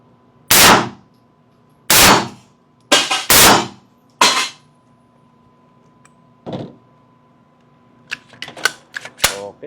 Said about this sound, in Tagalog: firing! Firing!